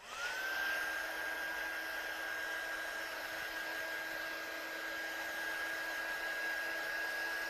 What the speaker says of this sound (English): So let's just dry this one off.